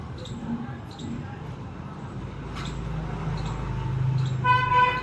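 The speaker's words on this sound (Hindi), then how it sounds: "गाड़ियों की शोरगुल आ रही होंगे आपको।" Busy street traffic outside a repair workshop, with a steady low rumble of vehicles and several short car horn toots, some repeated, mid-distance and moderately loud.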